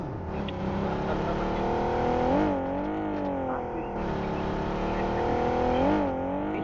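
A car engine in the BGMI battle royale game revs hard with a speed boost, a loud, steady whine that rises and falls in pitch twice, heard alone without talk.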